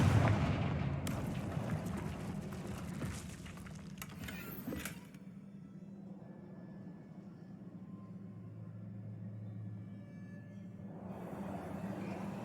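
Explosion from a Confringo spell in Hogwarts Legacy: a heavy, rumbling blast with a sharp crack, followed by a long, low decaying roar.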